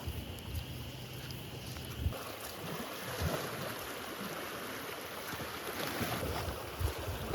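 A flooded homestead creek overflowing its banks after heavy rain rushes in a steady, broad roar of churning water, with wind buffeting the microphone and no talk.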